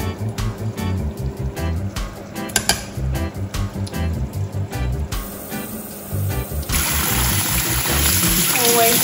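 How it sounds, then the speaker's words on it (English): Rice is washed in water while cooking Jamaican curry chicken and white rice, with swishing, pouring and rinsing splashes under a running tap, plus clinks of a pot, loud and close. "Always wash your rice, guys."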